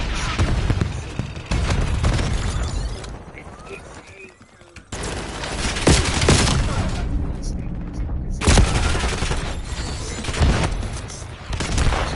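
Cluster grenades go off in the Call of Duty video game as dense, loud rolling bursts of explosions and gunfire. The barrage breaks off briefly, then returns, and game voices speak through the din.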